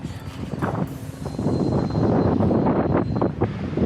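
Wind rushes steadily across the microphone outdoors on a sunny afternoon during a bicycle ride. The buffeting is loud and broad, swelling and holding strong throughout, with no voices.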